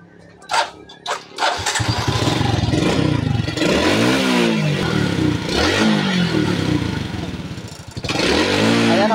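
An overhauled Suzuki Raider J motorcycle engine coughs a few times, then starts and revs up and down repeatedly, loud and close, with brief dips and rises in throttle.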